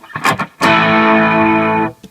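A blues guitar tone from a Digitech TRIO band creator and looper pedal rings out loud and sustained as one distorted chord held for over a second, after a couple of short picked notes.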